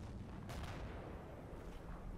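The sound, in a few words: mortar shells landing in a video game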